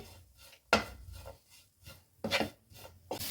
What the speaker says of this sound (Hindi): अच्छे से सभी मसालों को मिक्स करेंगे।